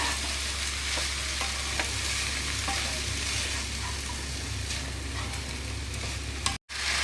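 Banana flower curry with coconut and spices being stirred in a pan: a steady close scraping and sizzling that runs without pause, then cuts out briefly near the end.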